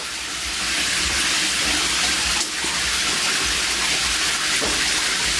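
A faucet keeps pouring into a bathtub at a forest cabin, a constant close rush of water that swells slightly and carries on unbroken.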